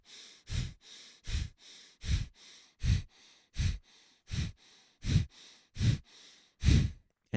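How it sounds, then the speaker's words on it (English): Skull shining breaths, a forceful breathing exercise: about a dozen sharp, rhythmic nasal exhalations in quick succession, close and clear, each a short puff separated by quieter passive inhales. "So let's do 10 of these skull shining breaths"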